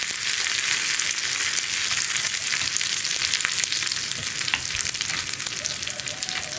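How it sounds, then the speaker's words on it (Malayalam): Curry leaves sizzle and crackle steadily in hot oil while being stirred in a pan for a cherupayar and kumbalanga curry, a dense, continuous frying hiss close by with no voices. "ഇതെല്ലാം ചേർന്നൊന്ന് കളർ ചേഞ്ച് ആയി വരുന്നത് വരെ ഇളക്കി കൊടുക്കുക."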